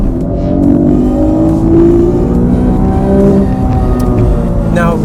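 A Honda NSX-R accelerating hard in second gear, its engine note climbing in pitch loud and close, with a voice talking over the rising rev.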